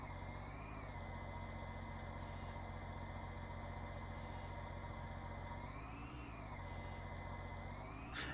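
A steady, low tractor engine in Farming Simulator 19, a New Holland or Ford Fiatagri model, idling and droning evenly with faint intermittent beeps above it.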